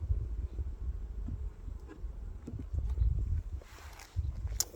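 Honey bees buzz around an opened hive during a comb frame inspection, a close, steady low drone with scattered louder passes and some handling knocks.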